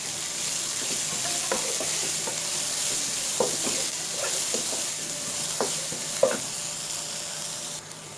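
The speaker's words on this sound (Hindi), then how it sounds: "अब मैं इसके अंदर ये हरी प्याज ऐड करके 2 मिनट फ्राई कर" Chopped green onion fries with cumin in a hot pan, giving a steady sizzle with scattered clicks and scrapes from a utensil stirring. There are no voices.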